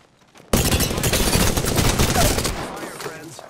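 Gunfire in the video game Apex Legends: a sudden, loud burst of rapid automatic shots rattles on for about two seconds, then tails off into echoing reports.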